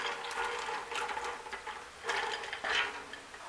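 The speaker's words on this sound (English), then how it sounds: "and then you put your groundnuts." Groundnuts are tipped into a pot of water for boiling while cooking Cameroonian ndole, making a faint, close rattling clatter with a few louder bursts of scattering nuts and no voices.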